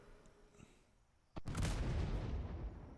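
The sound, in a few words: ship cannon shot in a video game (DarksideRP)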